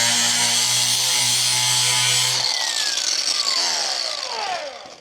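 A power grinder works on metal during repairs to a cheap Chinese brush hog, giving a loud, steady, close whine that drops away partway through as the tool spins down.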